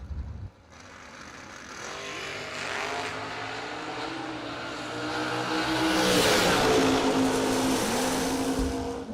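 A Camaro and a pickup truck launch down a drag strip together, engines roaring up from a sudden start into a long, building howl that swells louder and higher as the cars accelerate away, with shifting pitch near the end.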